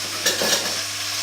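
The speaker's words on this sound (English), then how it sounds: "Give that a little stir." Bolognese vegetables stirred in a hot pan: a constant sizzle with a couple of scraping stir strokes near the start, close and fairly loud, no voices.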